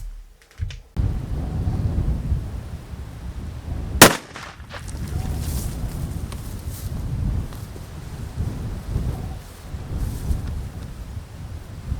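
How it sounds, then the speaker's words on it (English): A single sharp, loud rifle shot from a Desert Tech SRS-A1 chambered in .338 Lapua Magnum, firing a 285-grain handload, cracks out over steady outdoor wind noise and dies away quickly. "Plenty of recoil in that round I just fired."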